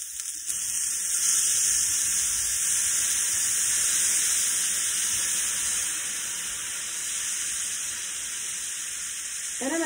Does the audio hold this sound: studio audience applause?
no